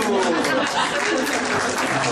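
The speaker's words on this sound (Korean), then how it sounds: "박수" At a book concert in Gwangju, an audience bursts into applause, a close, continuous patter of clapping mixed with murmuring crowd voices.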